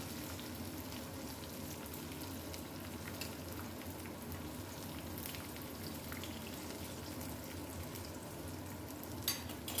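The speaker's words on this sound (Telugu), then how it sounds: "వెల్లిపాయలు కూడా మంచిగా వేగాలి నూనెలో" Garlic frying in oil for tomato rasam, a steady, continuous sizzle and crackle, close and even throughout, with a faint clink near the end.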